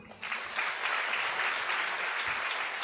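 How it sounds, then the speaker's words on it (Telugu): A church audience at a sermon bursts into applause after a brief pause, steady clapping from many hands that holds for a few seconds. "ఇప్పుడు కొట్టండి చప్పట్లు"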